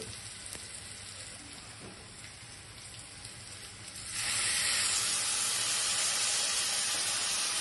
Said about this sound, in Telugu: ఇప్పుడు ముందు కొన్ని వంకాయ ముక్కలు వేస్తాను.